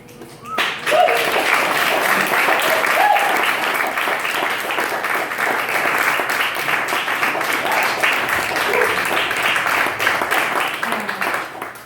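Loud sustained audience applause at a poetry slam in Seattle, dense clapping that swells in after a brief quiet moment and holds steady for about ten seconds before tapering slightly.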